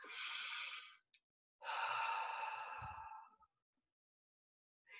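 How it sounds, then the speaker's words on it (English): A group of people draw big breaths, two long, loud, airy inhales separated by a short pause, heard close with no talking. "everybody take a big breath"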